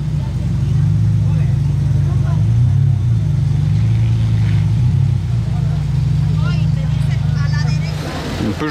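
An Aston Martin Vantage in Monaco streets, a loud, close, low engine drone holding steady for several seconds before fading as it passes, with voices talking over the end.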